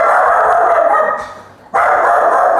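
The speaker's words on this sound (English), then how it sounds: "he wants to act up and bark at every single thing that's outside" A pet dog barks indoors close by, a sustained loud bark with a brief dip in the middle before resuming at full strength, with no talk over it.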